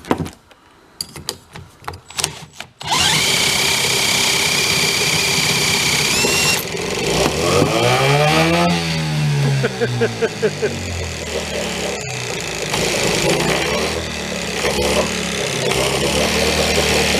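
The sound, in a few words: old boat engine running after choke is applied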